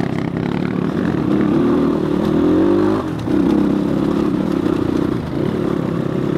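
A new CX250r motorcycle engine droning loud and close while riding, a steady throaty hum with a brief dip around the middle as the throttle eases, then pulling again, wind and road rumble underneath.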